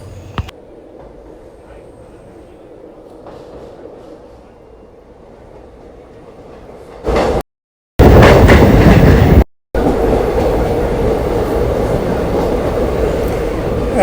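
The Haldighati Express train running on a Rajasthan railway line, heard as a steady loud rumble and rhythmic clatter of wheels on rails, with brief dropouts in the middle and sustained noise continuing after.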